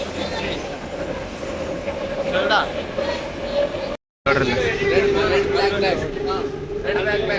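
Steady rumble and rattle inside a moving metro train in Georgia, a continuous loud hum with a brief dropout partway through.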